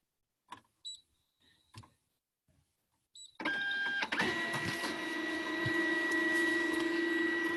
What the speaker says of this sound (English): I'd also like you to watch while I print it out, and just going to make a copy so you can see it coming out